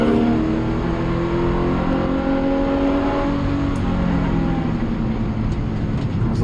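Race car engine under steady load on track at Winton, a continuous close mechanical drone with layered harmonics that stays even rather than climbing hard, loud and alone throughout.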